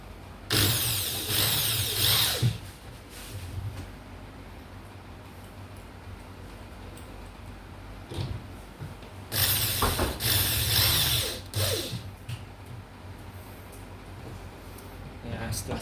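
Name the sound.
tightening screws while assembling a wardrobe lock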